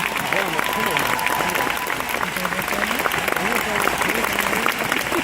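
A crowd at a Civic Center rally applauds Bernie Sanders, with steady, dense clapping sustained throughout, loud and close, with some crowd noise mixed in.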